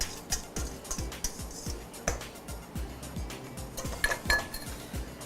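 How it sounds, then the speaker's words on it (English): Batter with melted butter and whisked eggs is mixed in a bowl, producing rapid, rhythmic utensil strokes that thump and clink against the bowl in an even beat. "everything is mixed until you have an even and a smooth consistency throughout and not lumpy"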